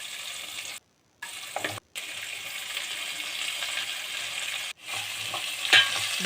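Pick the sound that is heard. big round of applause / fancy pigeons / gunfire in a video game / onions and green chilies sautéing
onions and green chilies sautéing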